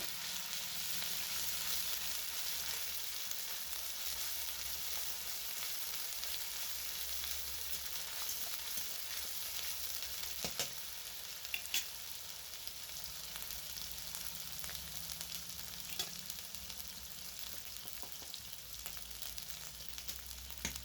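Ground ginger, garlic and onion paste frying in mustard oil for an egg curry, a long even crackling sizzle close by with occasional faint spoon taps and stirs, no talking.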